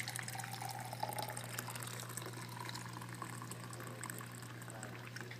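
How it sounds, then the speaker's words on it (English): Coffee pours from a coffee pot into a cup in a steady, continuous liquid stream, close but quiet, with a low hum underneath and no talking. "and then you want to pour the coffee"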